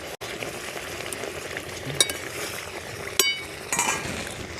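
A lid is lifted off a pot of simmering loita fish curry with a few sharp metallic clinks over a steady soft bubbling sizzle, close and fairly quiet.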